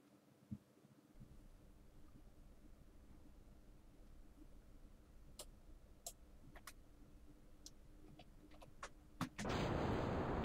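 A rocket lifts off from the launch pad in Kerbal Space Program. Scattered sharp clicks come first, then a loud, steady engine roar bursts in near the end and holds.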